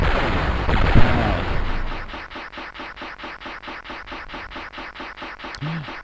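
Repeated rapid shooting from the Amiga game SilkWorm: a steady train of sharp synthetic gunfire pulses after a loud opening explosion burst, with a brief low tone near the end, all game audio and no talking.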